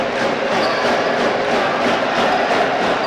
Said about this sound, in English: And that dunk has certainly got the crowd going here.